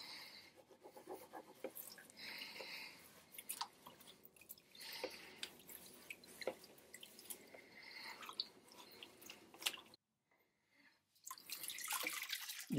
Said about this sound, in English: giving it a bit of a wipe down with hot water soon started to lift the dirt and grime.